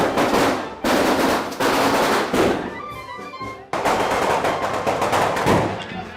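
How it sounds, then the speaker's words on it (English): Bangers and firecrackers set off at a fiesta: loud, dense crackling bursts of rapid explosions close by, broken by a short lull before the barrage starts again. "Oh, they love letting off their bangers, those boys."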